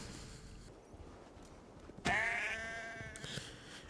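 A sheep in the video game Assassin's Creed Valhalla lets out a single loud, close, wavering bleat lasting about a second, then trails off over faint background rustle and soft hoof-like taps, with no speech.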